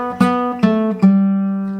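Fingerpicked acoustic guitar notes, three plucked strings ringing in sequence with a hammer-on and a pull-off, played up close with a clear sustained tone and no talking.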